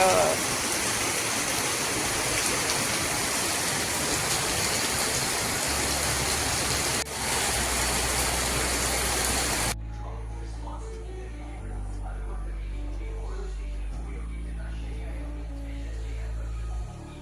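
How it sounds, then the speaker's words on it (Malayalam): Steady, heavy rain pours with a dense hiss for about ten seconds, then cuts off abruptly and gives way to music. "മഴ കണ്ടോ? മഴ."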